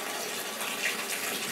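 Hot water running from a tap into a bathtub while clearing a clogged drain, a steady even rush of flow, close and moderately quiet with no talking.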